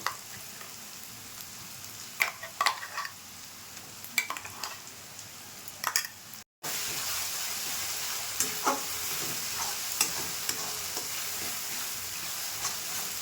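Gobindobhog rice frying with spices in a pan, a continuous close sizzle punctuated by scraping stirs, with a brief cut midway and louder frying afterward.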